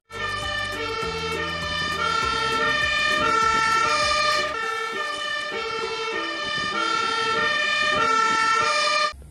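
A toy fire engine sounds its electronic siren, a loud, continuous two-tone wail that keeps cycling up and down at close range with no voices.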